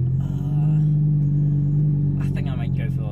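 Lamborghini Huracan engine idling with a deep steady rumble, loud and close, while people talk over it.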